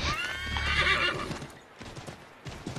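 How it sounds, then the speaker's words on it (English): A horse in the video game Assassin's Creed 3 whinnies loudly up close, then its hooves clip-clop in a quick galloping rhythm. "Ooh, I can spur him now! Yeah! I'm on a horse."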